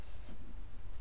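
A paintbrush strokes across paper while painting a robin's feathers, a soft, close, continuous brushing scrape lasting about a second.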